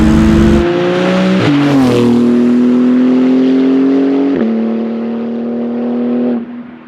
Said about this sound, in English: now you've heard the sound of the GT3 with that sport exhaust system